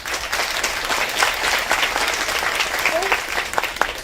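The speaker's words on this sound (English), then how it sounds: "Please give him a big round of applause." Audience applause for the Taipei mayor at a port exchange event, a dense, loud burst of many hands clapping that carries steadily throughout.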